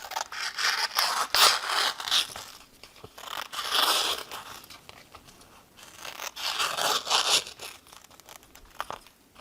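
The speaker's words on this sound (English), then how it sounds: "let's just grab our scissors and trim around it" Scissors snip and crinkle through vinyl while trimming around a car window decal, in short, close crunchy bursts with brief pauses between cuts.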